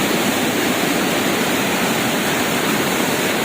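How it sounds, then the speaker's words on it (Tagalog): Matikawol waterfall in Mapanas, Northern Samar pours in a dense, constant rushing roar, loud and close, with water noise steady from start to finish and no voices. "Ito yung pinakahuling falls."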